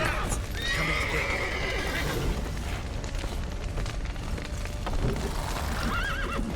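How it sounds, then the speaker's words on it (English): Horse in the video game Witcher 3, whinnying loudly with galloping hoofbeats beneath, a second whinny near the end, amid busy game sounds. "There's the horse."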